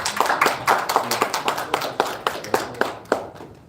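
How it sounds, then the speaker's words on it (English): An audience claps after a speaker at a conference on conflict prevention, a thin group of distinct, fairly close hand claps in an uneven rhythm that fades out after a few seconds. "Can we just give a round of applause?"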